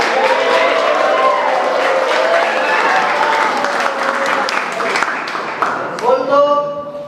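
A school class applauding together, loud close clapping mixed with children's cheering voices, sustained for about seven seconds with a burst of shouts near the end.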